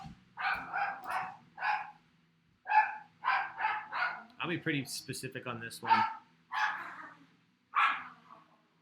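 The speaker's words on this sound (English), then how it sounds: "That's an angry dog." An angry dog barks in repeated sharp bursts at a fair distance, mixed in with people talking casually.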